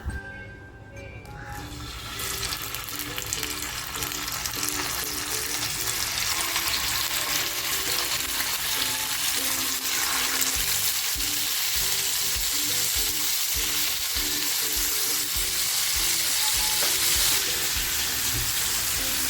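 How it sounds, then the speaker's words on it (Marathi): Fresh Bombay duck fish, with no flour or semolina coating, fries in a pan. A brief quiet start gives way to a loud, continuous close sizzle with faint crackles that holds steady to the end. "आता हे फक्त मी फ्राय करून घेते"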